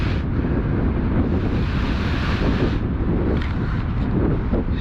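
Strong wind roaring steadily across an open frozen lake campsite in winter, a loud continuous buffeting rush with gusts swelling and easing throughout, alone with no voices.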